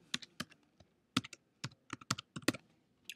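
Keys clatter in irregular bursts as someone types on a computer keyboard, close and clear, with short pauses between clusters of keystrokes and no voices.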